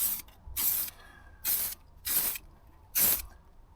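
Aerosol spray paint applied over rust repair on a Ford Transit step and sill, heard as four short, close hissing bursts separated by brief pauses.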